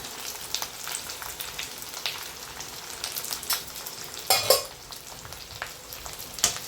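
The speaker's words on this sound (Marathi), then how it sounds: "तळतळ वाजू द्यायचा कढीपत्ता" Curry leaves crackle in hot oil while making a thin poha chivda, with fast popping and spitting over a steady sizzle, close, and a louder burst of crackles midway, no voices.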